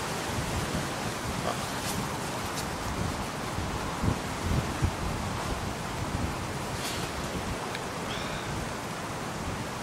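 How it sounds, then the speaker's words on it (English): Wind buffets the microphone outdoors during metal detecting, a constant broad rushing roar that fills the whole stretch with faint rustles and small knocks underneath. "I was in two minds about coming out today because of the wind."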